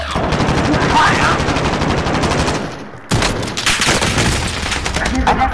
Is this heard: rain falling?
no